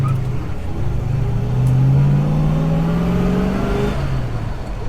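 An R Code Mustang driven hard, its engine revving up in a rising, droning pull that swells loud at mid-clip and then eases, heard from inside or close by with steady road and wind noise underneath.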